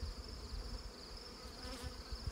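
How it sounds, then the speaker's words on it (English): Honey bees buzz around hives at a backyard apiary as beekeeping pails are pulled, a faint, continuous drone of many insects close by. "I had lots of bees to spare."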